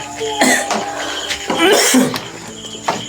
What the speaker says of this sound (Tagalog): Ito pa yung ubo ko.